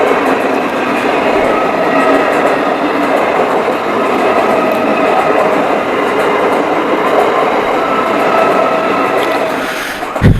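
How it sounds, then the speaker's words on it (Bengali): A Bangaon local passenger train runs along the Sealdah–Bongaon line in West Bengal, a loud, steady rumble of wheels and carriages sustained throughout with faint clickety-clack, heard from close by the track. "এই যে দেখতে পাচ্ছ সামনে ট্রেন যাচ্ছে"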